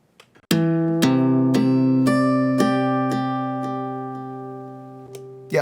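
An acoustic guitar riff fed through delay with a high-pass filter cutting the low end, plucked notes struck in a steady rhythm with repeating echoes ringing on and sustaining clearly.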